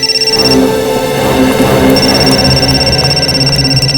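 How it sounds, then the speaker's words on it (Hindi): Phone ringing with a loud, repeating electronic tone pulsing steadily over a busy background. "निखिल सर, सिद्धार्थ का फोन।"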